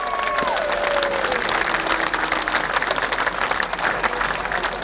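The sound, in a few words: crowd applause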